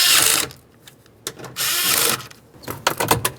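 Cordless power tool driving mounting screws into a 2006-2010 Ford Explorer rear door panel, several short whirring bursts separated by pauses, close and fairly loud with no talking.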